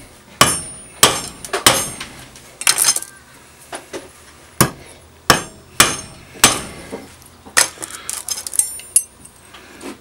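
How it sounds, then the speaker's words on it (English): A copper pipe end is flattened in a vise with about fifteen sharp, ringing metallic blows at an uneven pace, loud and close with no talk. "Then we're just gonna smash one end down."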